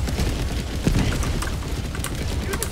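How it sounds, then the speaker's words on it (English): A Gatling barrage in the video game Helldivers 2 sets off a dense, rumbling wash of rapid explosions and booms, loud and unbroken for the whole stretch. "Oh, that's a Gatling barrage."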